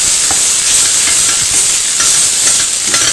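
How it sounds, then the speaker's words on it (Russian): Food frying and sizzling in a pan on a gas stove, a loud, continuous crackling hiss with occasional stirring scrapes, no voices. "У меня же здесь жарится, парится."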